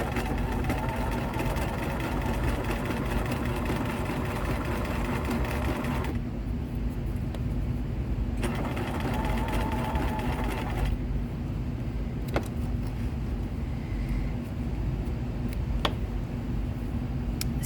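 A sewing machine stitches a fake coverstitch seam with a steady, close, whirring drone. The stitching pauses briefly a couple of times and then resumes, and there is no talking.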